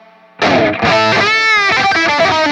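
Electric guitar played through a Line 6 POD Express on its Friedman amp preset with drive, noise gate and chorus, giving a loud distorted chord that rings out and sustains, then a few bending lead notes.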